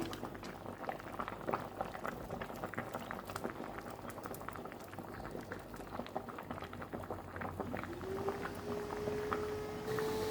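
A pot of raw fish curry made with mustard oil simmers on the stove, giving a steady, close bubbling and popping that runs throughout at an even level.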